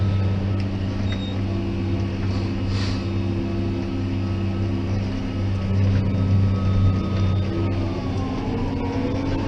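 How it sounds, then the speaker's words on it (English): Steady low engine drone of a Fendt 724 tractor running, heard from inside the cab at night, a continuous near hum with strong low tones and no talk over it. "Yeah, this Fendt is a nice tractor, I've got to admit."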